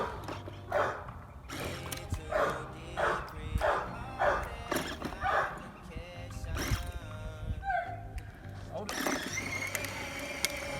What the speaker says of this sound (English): why are you barking like that, Cruz?